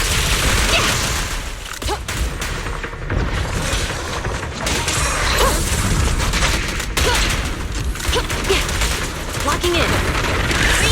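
Sustained combat noise in the Zenless Zone Zero video game, rapid gunfire and booming impacts running steadily and loudly throughout with no pause.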